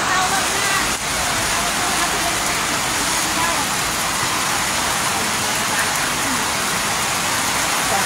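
Heavy, continuous rain falls in San Luis, Antipolo City during a typhoon flood, a dense, loud, steady hiss with no breaks.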